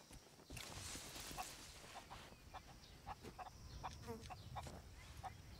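Chickens cluck in the pirate video game Sea of Thieves, short soft clucks scattered irregularly over a faint, busy outdoor ambience.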